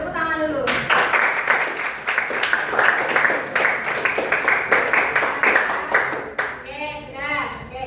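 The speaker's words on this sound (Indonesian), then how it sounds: "Tepuk tangan dulu." Classroom students clapping hands together in a lesson, a bright rhythmic burst of many claps lasting about six seconds, with voices heard just before and after.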